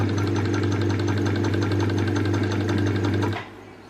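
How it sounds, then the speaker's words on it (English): A basic home sewing machine runs steadily, stitching close to the edge of the fabric for a topstitch while zipper sewing. A close, even mechanical whir holds for about three seconds and then stops. "I'm sewing really close to the edge because I'm going to do the top stitching option."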